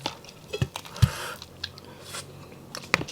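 A first bite into crispy Filipino roast pork lechon, served with fried fish and crab and corn soup, gives a few close, crunchy chews and bites, each short and separate, with quiet room noise in between.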